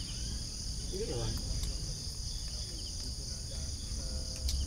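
Crickets chirp steadily in a high, continuous shrill chorus at a campsite near Taal Volcano in Talisay, Batangas, fairly faint and constant, with quiet talk and low background noise beneath.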